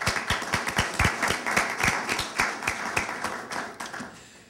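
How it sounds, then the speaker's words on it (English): A small audience claps for volunteers at a debate event, with a steady run of distinct hand claps at an even rhythm that slowly thin and fade toward the end. "Let's have a round of applause for our volunteers"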